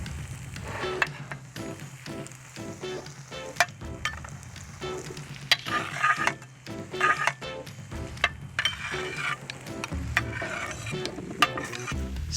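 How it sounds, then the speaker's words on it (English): Chickpeas, piquillo peppers and grilled vegetables being stirred into paella rice in a sizzling pan, with continuous frying hiss, scraping spoon strokes and occasional clinks of utensil against metal, close and steady throughout. "Stir in the vegetables."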